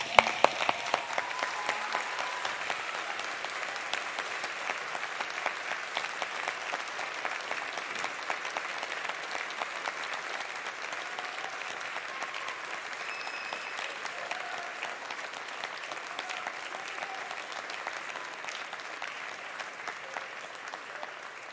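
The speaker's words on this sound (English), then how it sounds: "stand up and give them a huge round of applause" Graduation crowd at a University of Alberta convocation, sustained applause from a large hall, many hands clapping evenly for over twenty seconds, steady and moderately distant.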